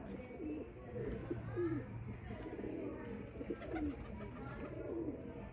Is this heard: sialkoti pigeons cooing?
yes